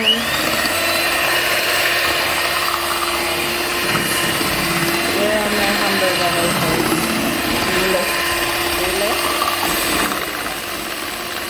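An electric mixer whirs steadily through fruitcake batter, a loud continuous motor drone that holds for about ten seconds before easing slightly at the end, with a voice talking faintly over it.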